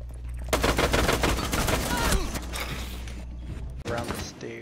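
Rapid automatic gunfire rattles through a wall in a video game, loud and close in dense bursts for several seconds, then a short final burst after a brief pause.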